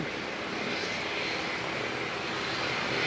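A light aircraft from the Aero Club comes in to land at the airport during a nor'wester, its engine drone a steady, broad roar heard at a distance throughout, mixed with wind noise.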